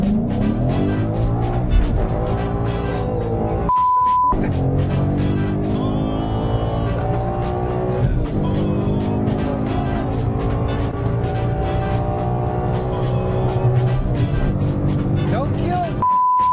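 A Mustang race car drives fast with a continuous loud engine roar rising through gears, heard from inside the car, with people talking and exclaiming over the engine throughout.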